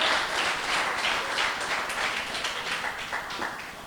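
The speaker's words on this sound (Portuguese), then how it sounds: "Você pode dar um forte aplauso ao Senhor por isso?" A church congregation claps together in worship, a dense, steady patter of many hands that carries on throughout with no voices over it and eases slightly toward the end.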